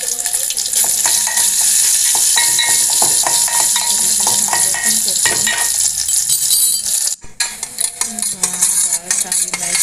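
Cumin, mustard seeds, a little chili and garlic sizzle loudly in hot oil in a pan for a tempering. A spoon stirs and scrapes throughout, and the frying drops off briefly near the end.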